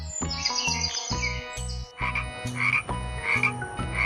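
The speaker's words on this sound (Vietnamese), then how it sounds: "Con ếch." A frog croaks in a repeated rhythmic chorus of raspy calls, heard close and steady over light background music.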